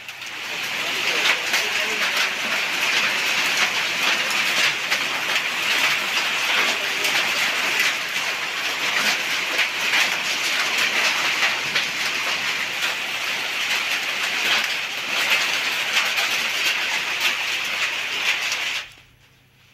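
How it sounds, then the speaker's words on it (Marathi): Heavy unseasonal rain pours down in Akola, a dense, steady hissing roar that holds without a break for nearly twenty seconds before cutting off abruptly. "मुसळधार पाऊस बरसलाय आणि संपूर्ण अकोला जिल्ह्याला अवकाळी पावसाचा फटका बसलेला आहे।"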